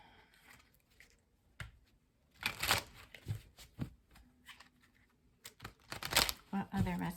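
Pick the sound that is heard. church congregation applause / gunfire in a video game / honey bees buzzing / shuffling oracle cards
shuffling oracle cards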